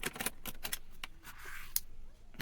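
Plain 12 by 12 card stock is creased and folded with a bone folder, giving a series of short, crisp rustles and scraping strokes, close and moderately quiet, with one broader sliding swipe midway.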